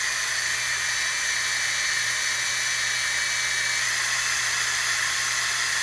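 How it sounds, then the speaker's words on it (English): A drill boring a hole into aluminum on a workbench while assembling an Ender 3D printer, giving a loud, steady high-pitched whine that holds without a break throughout. "so I'm going to drill my other one"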